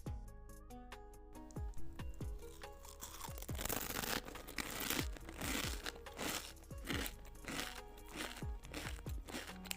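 Crunchy fried snack made from tapioca flour and one egg being bitten and chewed up close, a steady run of loud, dry crackling crunches repeating throughout with no talking.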